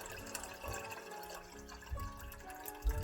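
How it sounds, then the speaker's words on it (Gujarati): Water is poured into a pot of basmati rice on a gas stove, filling it until the grains are submerged. It is a steady, moderately loud splashing and trickling that runs through the whole stretch with no voices. "તેની અંદર હું જ્યાં સુધી રાઈસ ડૂબે નહીં ત્યાં સુધી પાણી એડ કરીશ"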